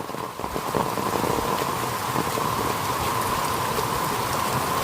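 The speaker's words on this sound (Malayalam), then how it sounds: "നല്ല മഴയാണ്" Steady heavy rain pours down continuously, a dense hiss with a faint engine hum beneath it.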